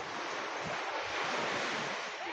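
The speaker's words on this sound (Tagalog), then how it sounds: "Ganda ng dagat guys." Sea waves wash steadily onto a white-sand beach with a constant roar of surf, and wind buffets the microphone.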